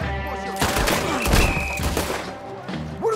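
Gunfire in the video game Red Dead Redemption 2: a quick volley of loud shots and thuds over game ambience, with voices speaking briefly.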